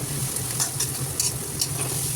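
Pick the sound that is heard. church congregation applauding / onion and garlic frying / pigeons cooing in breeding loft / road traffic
onion and garlic frying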